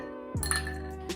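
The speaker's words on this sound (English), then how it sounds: "And now I need to add some ice into here." Ice cubes dropped into a cocktail glass give a single bright clink and clatter, followed by fading ringing and a small second tap near the end, close and fairly quiet.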